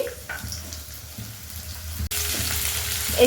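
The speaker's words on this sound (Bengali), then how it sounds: "তেল দিয়ে দিলাম কড়াইতে চিনি, তারপরে দিয়ে দিচ্ছি আমি পেঁয়াজ কুচি" Chopped onion goes into a very hot kadai with oil and sugar. A low, soft frying hum suddenly bursts into a loud, close sizzle partway through and then keeps crackling steadily.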